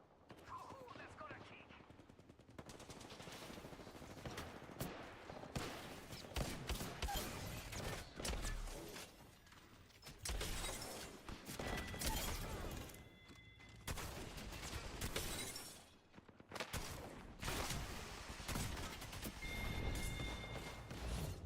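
Shotgun fire in a video game, sharp bursts of shots scattered across twenty seconds, some in quick clusters, loud and punchy, mixed with game effects, a couple of beeping tones and a voice talking over parts.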